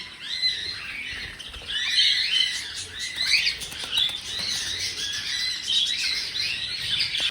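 Small pet birds, black-headed finches, chirp in an aviary, with many bright overlapping tweets and twitters running continuously, close and fairly loud.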